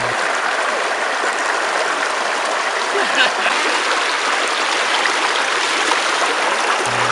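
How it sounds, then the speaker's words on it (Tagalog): Babbling mountain stream in Madlum, San Miguel, Bulacan, water trickling and splashing over sharp rocks in a steady, close wash that runs unbroken throughout. "Tila musika sa aming mga kaina ang lagaslas ng tubig na nanggagaling pa sa tuktok ng bundok."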